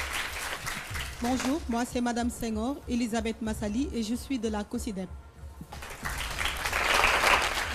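A woman introduces herself at a quiz show event while applause from the audience breaks out only at the very end, swelling briefly after her talk.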